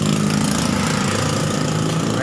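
Benelli TNT 600i motorcycle with its stock exhaust pipe removed, idling with a loud, raw, rumbling open exhaust, steady and close for a couple of seconds.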